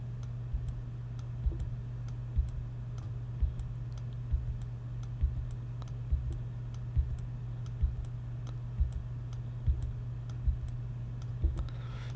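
Key presses and mouse clicks at a computer while working in Adobe Flash, a steady run of light, close ticks at roughly even intervals over a constant low hum, with no talking.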